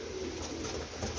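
A pigeon coos briefly, a soft low throaty murmur heard faintly against a steady background.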